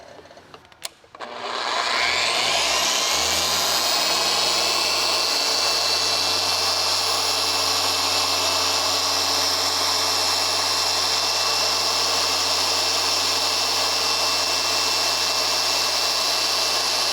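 A pad polisher spins up and runs steadily for over fifteen seconds, buffing swirl marks and scratches out of black car paint; a loud, continuous whine with a low hum, starting after a brief clunk and holding level to the end.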